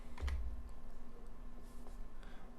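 Keystrokes tapped on a computer keyboard while building a web page, a quiet run of soft clicks against a faint steady hum.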